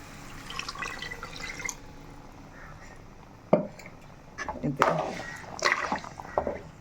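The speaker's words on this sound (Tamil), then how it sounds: "இந்த ஸ்டேஜில் நம்ம கறியை வேக வச்ச தண்ணி இதோட சேர்த்துக்கலாம்." Meat-cooking water, reserved from boiling mutton, is poured into a mutton Colombo kuzhambu in a few soft splashing bursts and drips, heard under a person talking.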